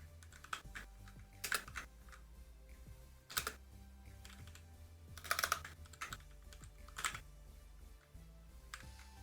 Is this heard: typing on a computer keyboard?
yes